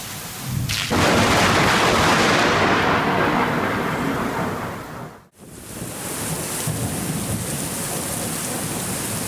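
Heavy rain pours steadily through a thunderstorm in Japan, with a loud thunder crash breaking in early and a sudden brief cutout midway before the downpour resumes.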